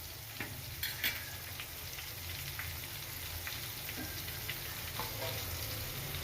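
Stuffed kantola cooks in a pan on low heat, making a soft, constant sizzle with occasional light ticks and pops, close but quiet, with no one talking.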